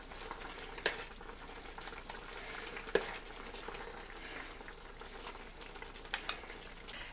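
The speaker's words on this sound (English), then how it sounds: "I'm going to leave this simmering on low, but it's pretty much done." Honey teriyaki seitan simmering on low heat in a pan, a steady quiet bubbling sizzle throughout with a few faint clicks and taps, no voices.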